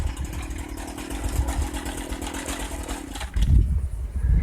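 A Stihl FS 56 RC gas string trimmer with a repaired primer bulb runs steadily at a buzzing idle, then picks up with a louder rev near the end.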